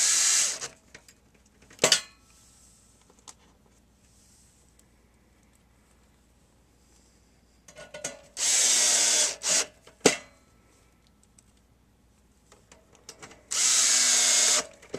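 A power drill drives screws into an NES console in several short bursts, with pauses and clicks between them, close and loud, no talking.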